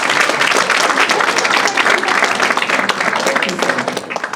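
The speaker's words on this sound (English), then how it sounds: "Let's give the judges also a round of applause." Loud, sustained audience applause fills a hall at a public sector debate competition grand finale as the judges are honoured, dense clapping throughout with a voice faintly underneath.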